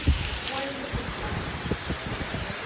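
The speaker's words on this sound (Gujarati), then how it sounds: "ફૂલ એટલે ફૂલ વરસાદ ચાલુ છે." Heavy rain pours at night during a storm with lightning, giving a dense, steady hiss of water close by with scattered heavier drips and splashes throughout.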